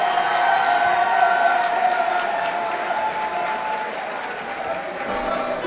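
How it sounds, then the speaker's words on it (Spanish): A crowd at a reggaeton show applauds steadily and loudly throughout, with dense clapping and some cheering that eases slightly toward the end. "¡Aplauda, coño!"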